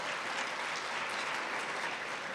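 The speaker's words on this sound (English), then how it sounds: "if you could all join me in extending a round of applause to the staff here at the Keystone Conference Center" Round of applause from an audience at the Keystone Conference Center for the staff, a steady wash of clapping hands with no voices above it.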